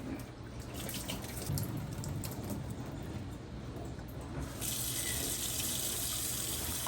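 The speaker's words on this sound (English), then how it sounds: "It's been 24 hours since we put the mung bean in there, so we're just going to drain it." Water drains and trickles from a container of soaked mung beans into a sink, a soft, steady running flow with faint drips, rising slightly toward the end.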